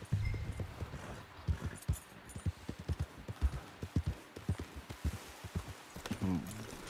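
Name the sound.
horses walking, clip-clop hooves in the video game Red Dead Redemption 2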